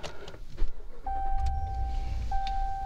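A 2019 RAM 1500 Longhorn 4x4 pickup starting up: a few clicks and a brief crank, then the engine catches and settles into a low steady idle with tonal chimes.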